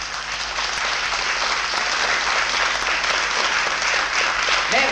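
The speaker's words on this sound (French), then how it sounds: "On l'applaudit quand même comme il mérite," An audience applauds a musician, giving sustained, fairly loud clapping that swells slightly and stays steady to the end, with a faint voice underneath.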